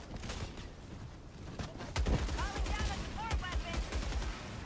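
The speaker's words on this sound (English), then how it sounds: "every rocket devastator is shooting at me" Rocket Devastator enemies in Helldivers 2 fire rockets in a dense barrage of sharp, rapid gunfire and booming blasts, growing louder and heavier partway through, with game chatter and whistling tones mixed in.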